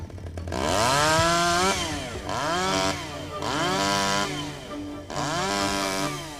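Chainsaw pruning upper tree branches at Lytham Hall, revving in four loud rising-and-falling bursts as it cuts, with short dips between.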